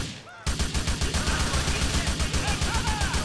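Sustained rapid automatic gunfire in GTA 4, starting abruptly and continuing loud and steady with evenly spaced shots, with a voice faintly audible beneath.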